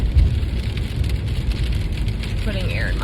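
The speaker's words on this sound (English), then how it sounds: "It's dark and rainy and nasty." Rain pattering steadily on a car driving through dark, wet early-morning streets, a dense continuous wash of drops over deep low road and engine rumble, with a faint wavering tonal sound rising near the end.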